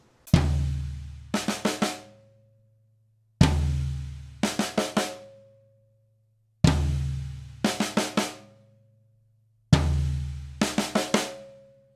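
Four repeated drum kit phrases, each opening with a booming low floor tom hit followed by a quick burst of higher high-tom strokes, separated by short silences.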